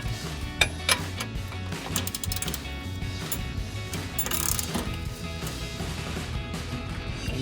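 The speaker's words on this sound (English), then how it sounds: "What I'm gonna start with is the ratchet, and I'll use my 21mm socket" A ratchet with a 21mm socket working a tight bolt on a rear Bilstein B8 5100 shock absorber of a 2019-2025 Silverado 1500, heard as close metallic clicking and clinking against a steady mechanical background.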